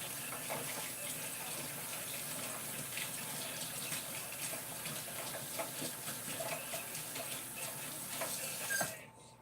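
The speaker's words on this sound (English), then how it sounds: "let me wash my hand off real quick" Tap water runs steadily into a kitchen sink while hands are washed, a continuous close splashing gush that holds for about nine seconds before it is cut off abruptly.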